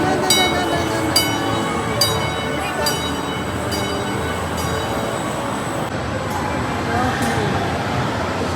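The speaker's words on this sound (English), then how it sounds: "Choo-choo train coming." A choo-choo ride train rolls past inside a busy shopping mall in West Edmonton, a steady rumbling clatter with repeated bright chime-like tones, heard close amid mall crowd noise and some talking.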